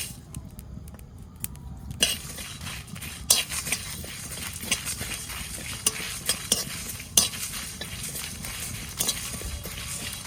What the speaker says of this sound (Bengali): মশলাটা ভেজে নেব। কড়াইতে প্রথমে লঙ্কাটা দিয়ে দিছি